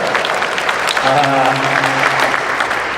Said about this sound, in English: Could we have a round of applause and maybe a few woo-hoos for Daughter's Day?